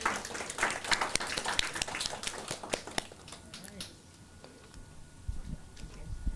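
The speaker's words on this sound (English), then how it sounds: "That was an extremely whack round of applause." A small audience gives a short, scattered round of applause after a talk on the political economy of the fashion industry, loose claps fading out midway, with some voices mixed in.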